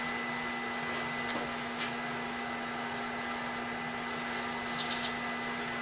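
A wood lathe turns a large 13-inch-diameter, 2.5-inch-deep bowl slowed to 400 RPM, holding a steady, even motor hum and whir with a few faint ticks over it.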